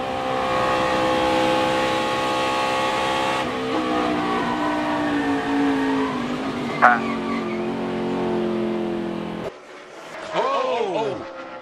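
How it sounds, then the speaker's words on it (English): In-car sound from a NASCAR race car as the driver works the throttle through a slide: a loud, harmonic engine note rising and falling, a sharp tire squeal burst, then a brief drop before revving resumes, with commentators talking over it. "We'll go in car with him and watch his hands and listen to the throttle"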